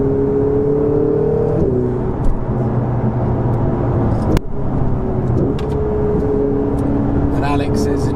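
A Ferrari 488 GTB pulls hard under acceleration, its engine tone rising and shifting through gear changes with a loud cabin whir and road roar, while someone talks over it.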